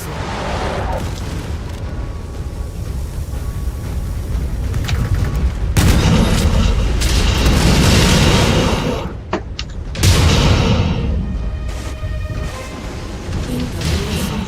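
Heavy booming blasts and rumbling detonations from a MechWarrior 5 battle hit loud and close, rising in bursts amid continuous combat noise.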